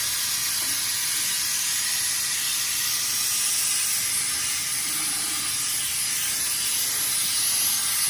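Compressed air rushing steadily from a shop air compressor hose, a broad continuous hiss that holds unbroken and loud throughout with no voices.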